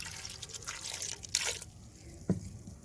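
A glass of water is poured into a clay pot of cut sweet potatoes, giving a faint, brief splash and trickle with a few soft drips in a quiet kitchen.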